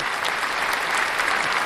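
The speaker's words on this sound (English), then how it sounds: "we're going to give that a clap because it's a big deal" A crowd gives a brief burst of clapping applause, dense and even, lasting under two seconds with no voices over it.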